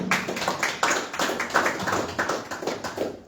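An audience at a welcoming ceremony at the port captaincy in Livingston gives applause, heard as close, uneven rhythmic claps that rise and fall over a few seconds with no voices.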